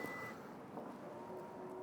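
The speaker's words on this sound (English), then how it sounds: "You can electrically close the trunk lid." Electronic warning beep from the power trunk lid of a 2022 Lexus UX250h E-Four as it closes electrically: steady tones near the car, a higher tone at first and then a lower one, over a faint hum, with no talk.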